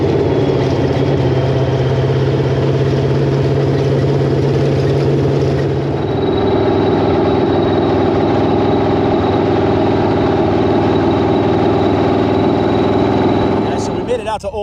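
A sand car engine idles loudly and steadily up close after a ride to heat-cycle a new set of Rogue sand tires, its low drone shifting pitch partway through, with a brief clatter at the very end.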